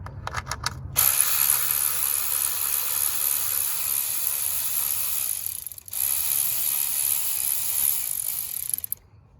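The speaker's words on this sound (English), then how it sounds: "you just take off these 10 millimeter bolts right here holding the coil" A ratchet loosens the 10 mm coil bolts on a Jeep Grand Cherokee V6, with fast, close, continuous clicking that runs in two long stretches separated by a brief pause.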